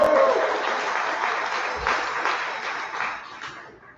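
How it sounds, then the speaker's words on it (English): Sustained applause from an audience at a campaign launch party for a Ward 5 DC Council candidate, steady clapping that fills the room for several seconds before easing off. "Y'all can give her a round of applause."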